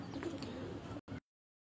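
Pigeon cooing on a Multan rooftop where pigeons are kept, a soft low burble close by for about a second before cutting off abruptly.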